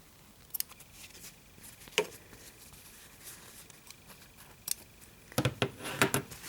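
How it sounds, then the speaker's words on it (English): Scissors snipping yarn close to fabric, a few quiet isolated clicks followed by a quick cluster of close, crisp snips near the end, with no talking. "So cut off your yarn close to the fabric."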